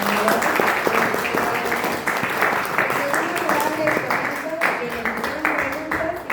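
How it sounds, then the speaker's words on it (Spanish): A class of students applauding during a classroom interview with a municipal chronicler, clapping mixed with overlapping voices and chatter throughout. "Primero hay que darle un aplauso"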